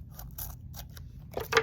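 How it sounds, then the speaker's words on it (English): Scissors snip along the edge of a dried magazine collage, a series of short crisp cuts spaced through the stretch with a louder, sharper pair of snips at the end, close and alone with no talk. "you can always flip it over and then use your scissors to trim"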